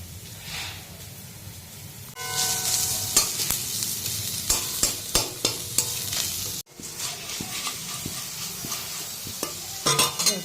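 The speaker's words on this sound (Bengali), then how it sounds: "এখানে মশমচা করে আলু ভেজে নিচ্ছি" Potatoes frying crisp in a little oil in a home pan, a loud continuous sizzle broken by sharp stirring scrapes and a brief cut partway through.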